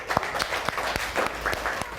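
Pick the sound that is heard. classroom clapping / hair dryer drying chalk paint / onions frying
classroom clapping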